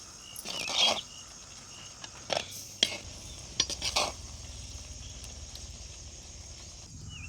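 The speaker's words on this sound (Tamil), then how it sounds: "இப்போ மிளகாத்தூள் 4 ஸ்பூன் போட்டிருக்குங்க. போட்டு நல்லா வதக்கிடுவோம்." Lemon pickle with chilli powder sautéing in oil gives a soft, low sizzle, punctuated by a few sharp metallic scrapes and clinks of a spoon against the pan as it is stirred.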